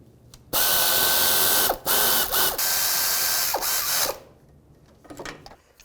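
Ratchet tightening bolts on a 2010-2017 Chevy Equinox engine during timing chain tensioner work, several quick bursts of rapid clicking close up, with short pauses between strokes.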